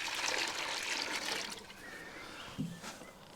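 Water rushes and trickles through a hydroponic strawberry system, a broad splashing flow that is louder at first and then settles into a quieter steady trickle with a small knock near the end.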